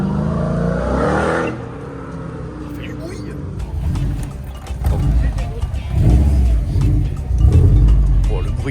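A car with a large exhaust at a Swiss car meet rumbles loudly nearby, its engine note swelling and revving in bursts toward the end, with people talking over it.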